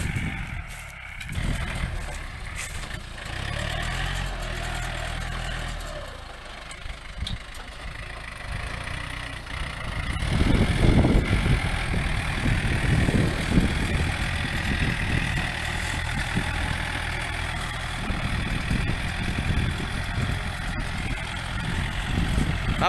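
A Yanmar 51-horsepower tractor runs steadily with a churning rumble while rotary tilling damp sandy soil after plowing; the rumble grows heavier partway through, continuing loud and unbroken.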